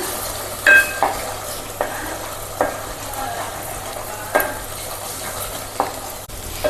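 Scrambled eggs frying in a pan with gravy for a prawn semiya biryani, a steady sizzle under intermittent scraping strokes of a spoon stirring the mix, close and moderately loud.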